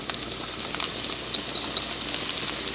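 Onions and jalapenos sizzle in melted butter in a single pan, a steady close crackle with scattered pops and no voices.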